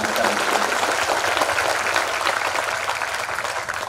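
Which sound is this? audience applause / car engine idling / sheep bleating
audience applause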